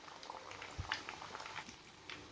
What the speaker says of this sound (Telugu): కొంచెం స్లో ఫ్లేమ్ మీదే వేయిస్తున్నాను.